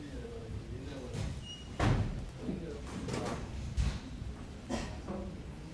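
A classroom door is opened, giving a few sharp knocks and thumps of the door moving and striking, spread through several seconds over a soft murmur of room noise.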